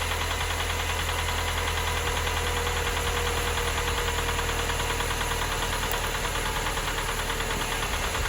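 A Toyota Carina II, abandoned for eight years, runs on the old fuel dregs left in its tank. Its engine idles steadily and fairly loudly with a constant low hum and a faint knocking edge, and no one speaks.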